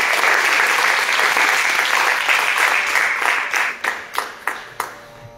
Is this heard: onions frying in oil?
no